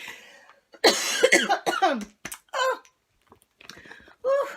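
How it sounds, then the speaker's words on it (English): A person gives a few sharp, close coughs and throat-clearing sounds, with brief silences between them. "Let me give another little cough."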